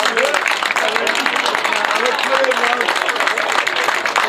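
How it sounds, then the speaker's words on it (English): A small crowd claps steadily for the football teams at a Remembrance Cup final presentation between New Street FC and Village Hotel, with voices murmuring through the sustained applause. "Come on, give another round of applause."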